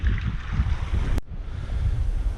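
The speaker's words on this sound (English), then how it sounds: "Wind's picking up now." Gusty wind rushes outdoors in the Swedish woods, a low rumbling buffet against the microphone with a brief sharp knock midway, steady and fairly loud with no voices.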